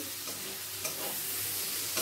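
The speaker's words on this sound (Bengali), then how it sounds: "পেঁয়াজটা একটু ভাজা হয়ে গেলে আমরা টমেটো কুচানো দিয়ে দিচ্ছি" Chopped tomatoes sizzle in a pan with frying onions, a close, steady hiss and crackle with faint scraping from stirring throughout.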